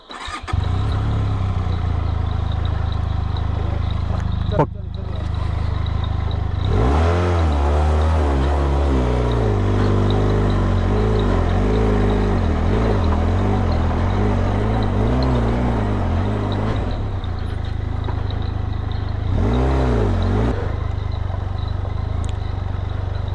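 A motorcycle engine cranks and fires on a slippery mountain slope in Sikkim, then idles and revs repeatedly in close, loud surges for a long stretch, with brief dips between throttle blips.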